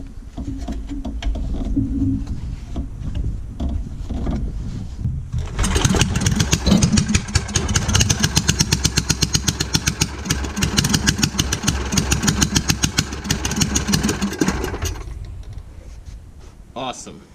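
A mudding lawn mower with a welded differential and twin exhaust stacks starts up and runs for about nine seconds with a rapid, loud, popping engine pulse, then cuts off, leaving quieter background sound.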